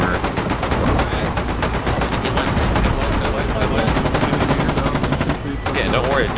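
In the war video game Foxhole, rapid bursts of automatic gunfire crack loudly and almost continuously, with voices talking underneath.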